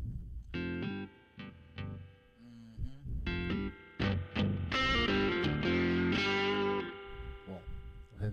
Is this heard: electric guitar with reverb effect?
yes